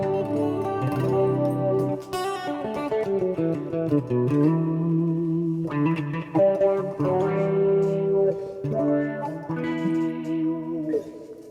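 Electric guitar riffs run through a sweeping wah effect on an Axe-FX III, the tone swelling and narrowing as chords and single notes ring out with effects.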